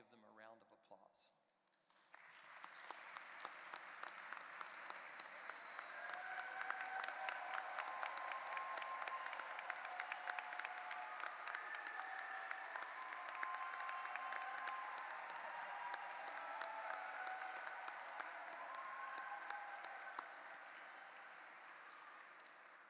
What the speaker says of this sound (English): please stand and let's all give them a round of applause